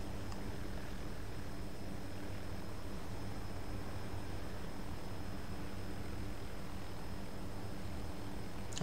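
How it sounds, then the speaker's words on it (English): A helicopter in the ArmA 2 video game flies over the map, heard as a steady, low, droning rotor and engine roar with a constant hum, moderately faint and unbroken throughout with no talk. "I'm gonna kind of bring the helicopter down and then go west towards the airfield"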